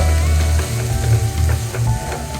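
Shallots, garlic, tomato, curry leaves, ginger and green chilli sauté in hot oil for a crab fry, giving a loud, steady sizzle with faint stirring scrapes throughout.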